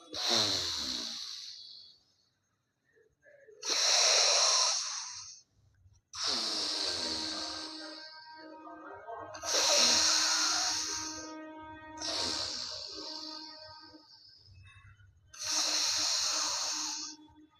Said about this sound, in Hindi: एक नाक से अंदर की ओर सांस को भरेंगे और दूसरी नाक से छोड़ेंगे